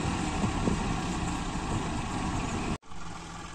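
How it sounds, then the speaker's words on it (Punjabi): A tractor engine runs steadily at close range while pushing soil, a continuous low rumble that cuts out sharply for a moment near the end before resuming. "ਪਾਪਾ ਮੂਹਰੇ ਕਰੀ ਜਾਂਦਾ ਟਰੈਕਟਰ"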